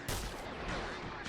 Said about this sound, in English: This TX-130S is firing out.